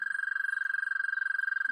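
A person imitates the long, loud trill of an American toad, a single steady high-pitched hum held unbroken and fairly loud throughout, with a faint low voice sound creeping in at the very end.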